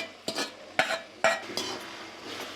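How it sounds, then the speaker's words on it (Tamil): Vegetables being stir-fried in oil for fried rice, with three sharp spatula scrapes and clatters against the pan at a steady pace over a faint sizzle, close by and with no talk. "ஆட் பண்ணி நல்லா வணக்கி விட்டுடலாம் ஃப்ரெண்ட்ஸ். எண்ணெயிலேயே தான் நல்லா அது வேகணும்."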